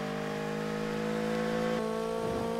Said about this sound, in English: Oh, that exhaust sound from the back.